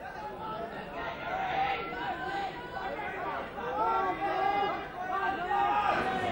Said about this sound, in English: it looks like there's a reasonable sort of a crowd here from Penrith tonight by the sound of that noise